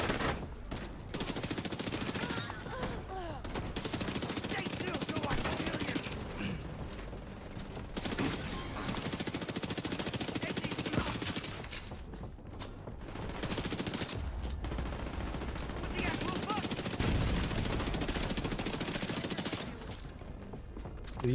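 Heavy machine gun fire from a mounted emplacement in the game Dune Awakening, loud and sustained in long rattling bursts with short pauses, plus a few faint mechanical clanks.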